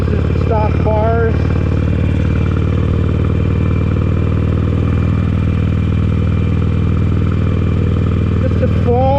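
A 2017 Harley-Davidson XL1200CX Sportster Roadster with a Stage IV upgrade rides along, its loud steady engine rumble continuous throughout, with faint chirps at the start and end.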